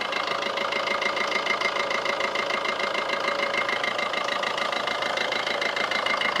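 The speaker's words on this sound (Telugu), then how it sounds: "వెహికల్ ఇంజిన్ స్టార్ట్లో ఉంది ఎలాంటి ఆయిల్ లీక్ లేదు" A Maruti Suzuki Ciaz VDI+ diesel engine idles close by, a continuous even rumble with a faint rhythmic knock and no change in speed.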